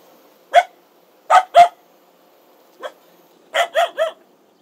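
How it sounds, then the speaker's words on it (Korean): A husky barks in a series of short, sharp, close barks in uneven clusters, with a single bark or a pair of barks at a time, in an otherwise quiet setting with no talk. "그런데 어머님을 향해 지저대기 시작하는 강아지"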